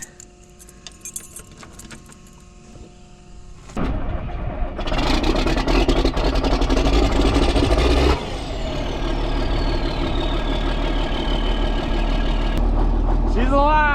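Keys jangle up close before a diesel engine cranks over and fires, then settles into a loud, steady idle as it warms up, with the note shifting slightly partway through.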